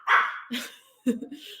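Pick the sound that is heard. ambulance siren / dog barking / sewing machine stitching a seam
dog barking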